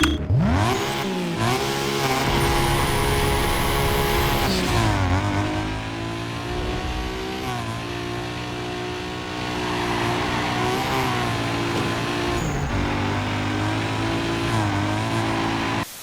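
A sports car engine in the video game Need for Speed Underground 2 remake (Unreal Engine 5) revs hard, rising and falling in pitch through several gear-like sweeps, loud and close, with no talking.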